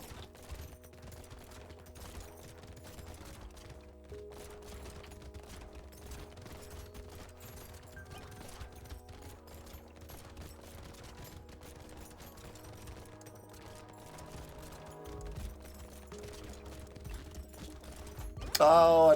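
Turrets in Brotato fire rapid, continuous small shots at low volume, a busy patter of game gunfire under music-like tones that rises to a louder burst at the end.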